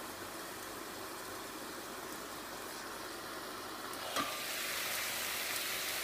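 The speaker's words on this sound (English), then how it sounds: "Sausages in and cooking." Sausages frying in a skillet give a faint, steady sizzle with a soft clink about two-thirds through, and no voices.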